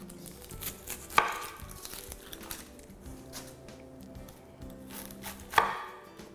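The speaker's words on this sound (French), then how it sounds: "Puis, je vais juste couper un oignon." Two sharp knife strikes cut through an onion on a board, spaced several seconds apart, close and distinct over a quiet kitchen background while meatballs are being prepared.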